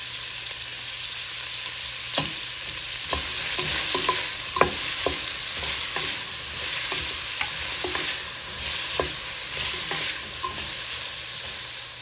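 Onions sprinkled with salt fry in a pan for homemade chicken curry, a continuous loud sizzle with repeated scraping stirs and clicks at an uneven rhythm throughout, no voices.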